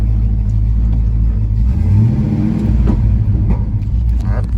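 A GMC K2500 Squarebody pickup truck's engine idles with a steady, low rumble, continuous and fairly loud, with a slight rise in pitch partway through and a faint voice underneath.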